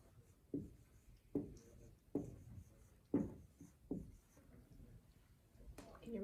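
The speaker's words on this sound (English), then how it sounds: "Write that one on your board." Marker strokes squeak and scratch on a small classroom whiteboard during a phonics lesson, coming in a series of about six short, close, quiet bursts with brief pauses between them and no talking.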